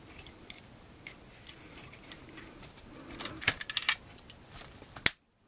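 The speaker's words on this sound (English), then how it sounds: "We have to push this in until we get a clicking noise." A Playmobil toy part, the net launcher piece from the Explorers Enemy Quad with Triceratops set, is pushed in until it snaps into place, giving a few small sharp plastic clicks up close, the last one louder, before silence.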